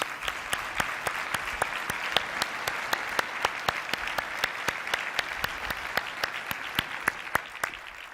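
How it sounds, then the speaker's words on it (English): Audience applause for the winners at the RSA Conference 2017 cybersecurity event, a sustained round of clapping with sharp individual claps standing out at a fairly regular pace over a steady crowd wash. "Please join me in a warm round of applause for all of our winners."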